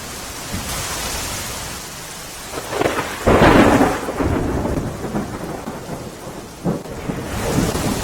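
Heavy rain pours steadily during a thunderstorm while a loud thunderclap rumbles through the middle, followed by softer crackling rolls of thunder.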